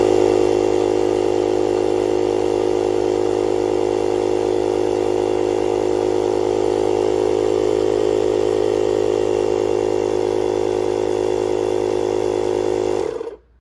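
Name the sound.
JFEGWO F85 portable air pump compressor running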